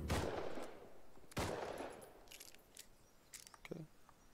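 Gunfire from a scientist NPC in the game Rust, two loud sharp shots followed by a scatter of quieter, more distant pops and clinks, fairly faint overall.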